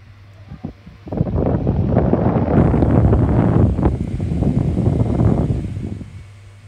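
A 6 inch white Status desk fan runs at high speed, giving a steady, loud, broadband whoosh of airflow with a faint hum that holds for several seconds after a quieter start.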